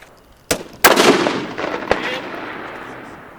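Gunfire on a military shooting range during the 2019 Best Ranger Competition: three sharp, loud shots, each followed by long rolling echoes that fade slowly, with no talking.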